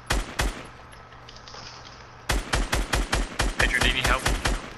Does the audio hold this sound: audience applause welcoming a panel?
no